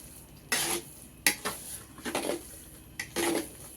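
Hot motichoor laddu mixture, about two kilograms' worth, stirred in a pot: several separate scraping, clattering strokes of a utensil against the metal, fairly close, with short quiet gaps between them and no talking.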